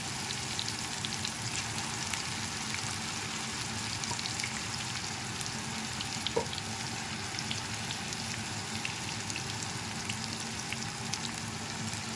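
Coconut masala paste sizzling in a pan for a Maharashtrian green field bean curry, a steady, soft crackling hiss running throughout with no talk.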